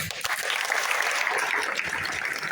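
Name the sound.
audience applause welcoming people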